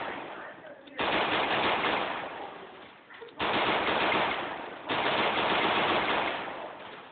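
Rapid automatic gunfire in a Free Fire Clash Squad match comes in three long, loud bursts with brief gaps between them, dense and close, with no voices over it.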